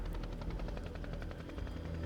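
Helicopters fly in for a Vietnam War troop landing, a loud, continuous rapid rotor thump with a heavy roar, close and sustained throughout.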